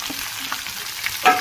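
Steady sizzling from a hot pan of carrots and chillies with faint stirring scrapes, then a louder burst of hissing near the end as cabbage is tossed in.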